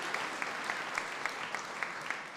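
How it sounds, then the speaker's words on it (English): A luncheon audience at a donor appreciation event gives steady, moderately distant applause, an even wash of many hands clapping throughout with no voices on top. "So you can give them a round of applause"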